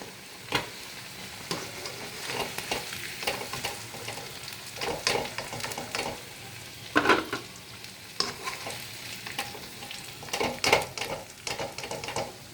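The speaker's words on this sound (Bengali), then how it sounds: "আর ততক্ষণে আমার আলুটাও ফ্রাই হয়ে এসছে" Potatoes frying in oil in a pan for aloor dum, a steady close sizzle broken by repeated scraping stirs and turning noises at irregular intervals, with no talk.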